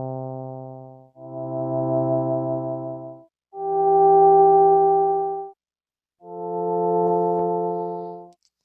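Subtractive synthesizer patch on an MPC Live played as four sustained held notes, each swelling in gently and fading out slowly after release, clean buzzy tones separated by short silences.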